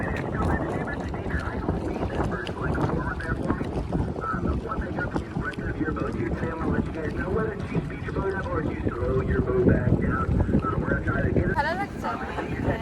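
A speed boat cruises slowly in a straight line on the sea, with a steady engine drone, splashing water and wind buffeting the microphone throughout, and voices talking faintly underneath.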